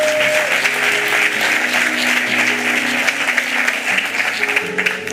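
A church congregation applauds steadily and warmly for several seconds, a dense, even patter of many hands filling the room, with faint voices mixed in.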